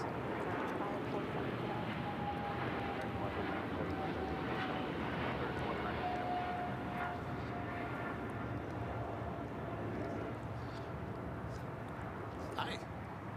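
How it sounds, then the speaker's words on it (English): American Airlines Boeing 777-300ER jet airliner at LAX, a faint, distant, steady jet engine roar that runs throughout at low level, with someone talking over it. "This American 777-300ER heading to London Heathrow."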